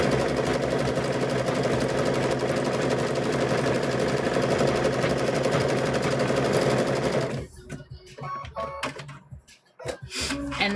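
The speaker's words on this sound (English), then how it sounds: "Let the machine pull the fabric that way, because if you push or pull, it's going to change the width of those stitches." A sewing machine stitches binding onto a quilt, running steadily and loudly for about seven seconds, then stopping abruptly; a few quieter clicks and handling noises follow.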